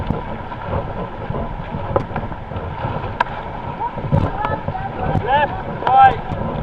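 Paddles dip and splash as a boat moves through the water, with wind buffeting the microphone and people calling out over the strokes.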